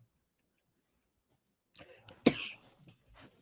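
After near silence, one sharp close cough bursts out, followed by some rough throat sounds and breathing.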